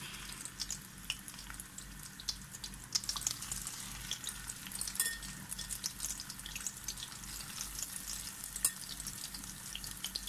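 Spicy sausage frying in hot oil in a pan, a faint steady crackle and sizzle with soft popping spits, heard close and alone without talking.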